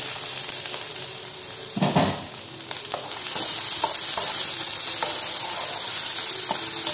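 Onions frying in a pan, a steady bright sizzle that swells and grows louder partway through as they hit the hot oil, with a few scraping stirs, and no talking.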